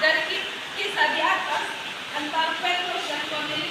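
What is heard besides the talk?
No everyday noises stand out.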